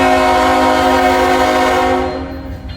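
Canadian National freight locomotives throttle up in Pekin, Illinois, giving a loud, close, sustained droning with strong tonal harmonics that fades slightly toward the end, no speech over it.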